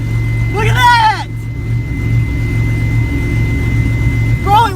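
A 1993 Mitsubishi 3000GT SL engine idles after a cooling system flush, giving a steady low rumble throughout. Voices talk loudly over it at the start and again near the end.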